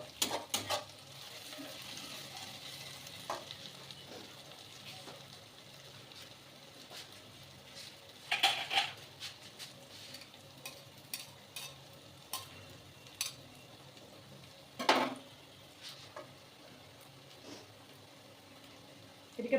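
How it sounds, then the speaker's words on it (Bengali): Onions fry in a pan while being stirred, a low continuous sizzle broken by repeated scraping and clinking strokes of the spoon against the pan, with faint talk now and then. "আর এই পেঁয়াজটা লাল লাল করে না ভাজা হলে কিন্তু একদম ভালো লাগে না। লাল লাল করে ভাজা হোক"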